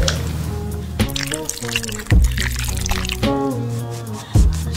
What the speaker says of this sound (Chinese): 芝麻酱一定要多加一点。